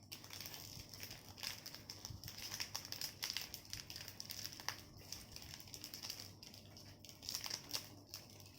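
Plastic and cardboard packaging of a MoYu Aosu WR M 4x4 Rubik's cube crinkles and rustles up close, with continuous handling, crackling wrap and small taps throughout.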